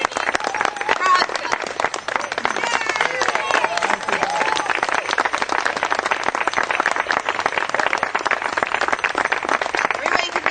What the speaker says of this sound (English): Congratulations, a warm round of applause, and welcome to our community.